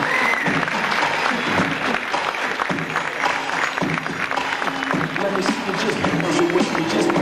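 A crowd claps steadily in sustained applause at a school fashion show while a voice speaks over it through an amplified system.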